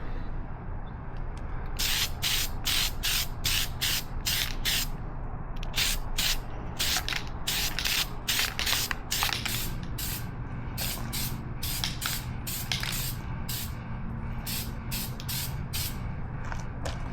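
A Jeep Wrangler JL part hanging from a tree gets light coats of spray paint outdoors, with repeated short hissing bursts from the can, close and steady, in fairly regular groups with brief pauses between passes.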